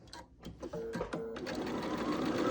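A sewing machine runs steadily, stitching pieced quilt rows together for a Cross In The Round quilt, a continuous close mechanical whir after a few brief starts and handling noises.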